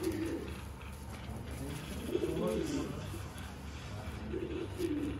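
Low, throaty pigeon coos swell and fade in a few repeated bursts over a constant low hum, fairly close and moderately soft.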